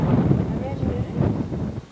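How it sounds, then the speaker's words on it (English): Cold wind gusting at Fort Selden in New Mexico, a steady broad rush across the microphone that holds for about two seconds and then drops away. "Boy, it's really breezy in here."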